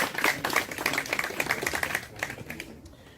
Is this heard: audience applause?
yes